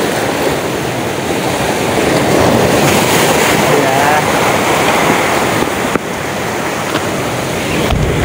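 Ocean waves surging and crashing at a fishing spot, a continuous loud roar of surf with wind, close and unbroken for several seconds.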